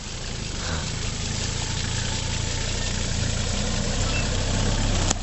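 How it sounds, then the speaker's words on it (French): A wheel loader's diesel engine drones steadily as the machine drives along. The low rumble is continuous and moderately close, with no talking. "Et il roule vite le pelletier."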